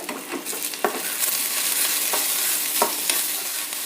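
Onions half-fried in a pan with a pinch of salt, giving a steady close sizzle broken by a few stirring scrapes, with no talking.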